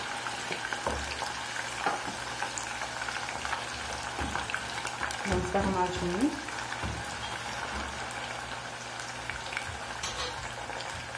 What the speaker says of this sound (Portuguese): Vou deixar ela fritando.